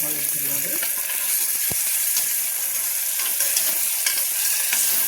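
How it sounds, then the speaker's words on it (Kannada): Garlic and masala frying in a pan for foxtail millet pulao, giving a dense, continuous close sizzle with occasional faint stirring scrapes and no clear talk. "ಅದನ್ನು ಕೂಡ ಚೆನ್ನಾಗಿ ಫ್ರೈ ಮಾಡಬೇಕು ಸ್ವಲ್ಪ ಅಲ್ಲ ಬೆಳ್ಳುಳ್ಳಿ ಮಿಕ್ಸ್ ಮಾಡಿ ನೋಡಿ"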